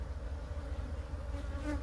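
Honey bees hum in a continuous, close, steady drone from an open hive during an inspection.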